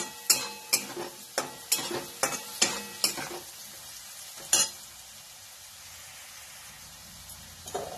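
Onion and turmeric frying in a pan with pumpkin, a spoon striking and scraping the pan in a steady rhythm of close clinks over a soft sizzle, then a quieter sizzling stretch.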